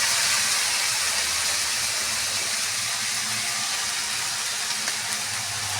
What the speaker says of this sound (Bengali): দিয়ে আমি মশলাটাকে একটু কষিয়ে নেব।